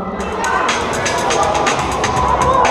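Crowd cheering and shouting at a breakdance battle in Berlin, a loud, continuous roar of many voices with rising bursts of cheers, close and energetic throughout.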